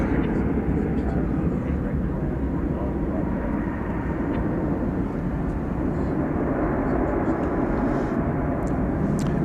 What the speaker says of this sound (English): That was an Airbus A319.